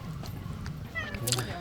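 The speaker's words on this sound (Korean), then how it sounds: "귀엽게 야옹야옹 거리고 있더라고요." A cat meows on an Osaka street during a Japan trip. It gives one short, clear meow about a second in, over a murmur of background voices and street ambience.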